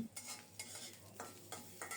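Grated coconut fries on low heat in a pan, a faint soft sizzle broken by several scraping stirs of a spatula at regular intervals, with no voices.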